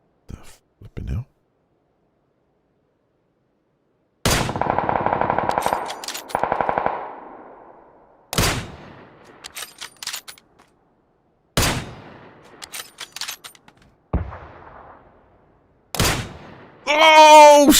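Gunfire in PUBG arrives in separated bursts: sharp single shots, a rapid automatic burst of several rounds, and further cracks with short echoing tails. A voice speaks briefly at the end.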